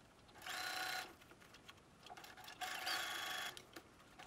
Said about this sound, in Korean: 그리고 합봉한 부분을 끝박음질로 눌러주세요.